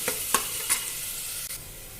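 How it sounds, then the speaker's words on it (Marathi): Crushed garlic sautéing with onion in a pan for masoor amti, a soft continuous sizzle broken by a few sharp stirring scrapes. "आता त्याच्यामध्ये आपण लसूण टाकूया ठेचलेला छान परतून घेऊया"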